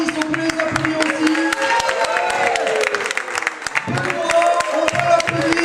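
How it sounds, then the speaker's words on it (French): A slam poetry audience in Brussels claps for the jury, sustained crowd applause with scattered cheers and excited voices, loud and steady across the whole stretch. "on peut les applaudir aussi."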